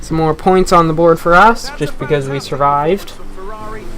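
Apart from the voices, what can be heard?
None of the usual background noises is heard.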